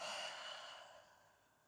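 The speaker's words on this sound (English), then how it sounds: "And exhale everything out." A long, slow exhale out through the mouth during a gentle yoga flow, a soft breathy whoosh close to the mic that fades away over about a second and a half.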